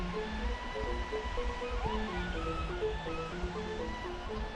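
Surf rolling onto the shore at Kuta beach, Bali, at night, a steady continuous wash of waves at moderate level, with faint musical tones and distant background noise from nearby cafes running underneath.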